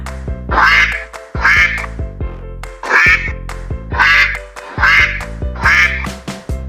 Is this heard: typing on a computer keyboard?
no